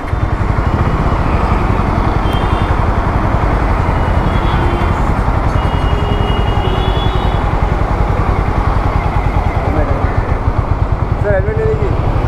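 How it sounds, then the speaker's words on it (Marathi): A Harley-Davidson motorcycle with an oil-cooled engine runs steadily and loudly up close, a continuous low rumbling throb under background chatter and street noise. "ऑइल कूल्ड इंजिन आहे."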